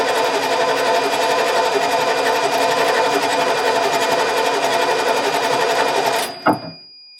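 A 1989 Ford F150 pickup with a bad start solenoid cranks in one steady, loud, rattling whir that runs unbroken for several seconds. It then stops abruptly with a clunk and a short rattle.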